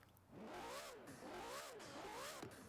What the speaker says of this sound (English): It's not a good sounding engine.